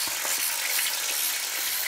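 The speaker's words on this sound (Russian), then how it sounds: "Так, Семен сейчас начинает жарить щуку нам." Pike sizzling as it fries in a pan, a steady loud hiss and crackle with no breaks, close by.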